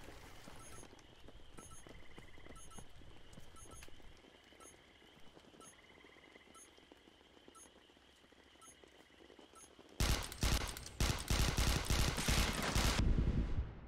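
Bursts of rapid gunfire from an assault rifle in the first-person shooter Interstellar Marines erupt loudly in the final few seconds, following a stretch of quieter game ambience with faint clicks and tones.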